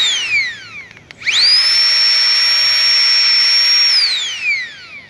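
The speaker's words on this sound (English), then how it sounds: "The blower to come on, you double tap." A small handheld electric blower spins up with a sharp rising whine, holds a loud, steady high-pitched whir for about three seconds, then winds down as the pitch falls away.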